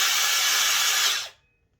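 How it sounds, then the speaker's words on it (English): A Makita DBS180 cordless belt sander, or finger file, runs loud and steady at its maximum speed of about 1700 RPM with a bright, high whine, then cuts off and spins down into near silence. "DBS180 Makita belt sander, finger file, whatever you like to call it."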